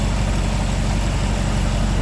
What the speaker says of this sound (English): I can kinda hear the alternator loaded up